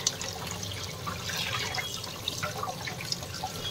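Water running in a kitchen sink while fish is washed, a steady low splashing stream with scattered drips and small clinks, close and fairly quiet, no talking.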